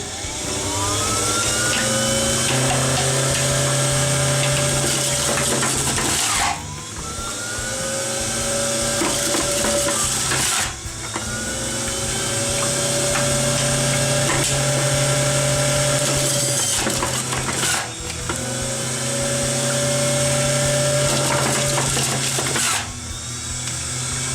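A loud electric juicer motor whirs steadily, cycling in long bursts of several seconds with brief dips between, a harsh mechanical whine with no talking.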